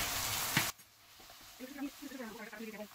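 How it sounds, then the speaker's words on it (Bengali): Onion fries in a pan with garlic and ginger paste, making a loud sizzling hiss that cuts off abruptly and leaves a faint crackle under someone speaking. "আগে অনিয়নটাকে একটু ভেজে ভেজে নিব"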